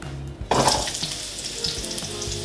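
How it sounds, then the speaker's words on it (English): Steady frying sizzle in a pan, crackling and spitting up close after a brief quieter start, with faint clinks of utensils. "Hear the sounds of the frying."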